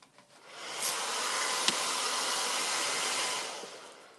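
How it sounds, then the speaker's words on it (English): A hair dryer blows steadily on wet paint on a homemade birthday card, a smooth, even rushing whir that rises quickly, holds for several seconds and then tapers off. "let's just dry it up. I hope I don't get paint all over my hair dryer."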